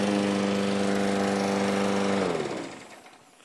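Gasoline lawn mower engine running loud and close, a harsh buzzing drone with a strong steady pitch that cuts off and fades away in the final second.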